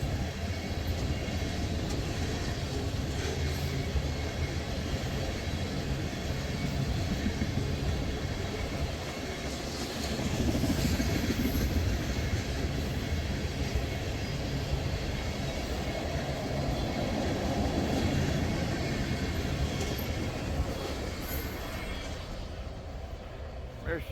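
A Norfolk Southern freight train rolls past on the line between Amherst and Vermilion, a long continuous rumble and rattle of wagons that swells louder partway through and then slowly eases as the end of the train nears.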